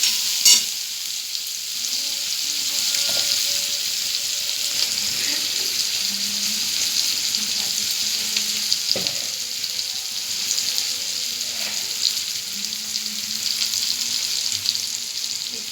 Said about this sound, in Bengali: পেঁয়াজটা একটু ভাজা হবে।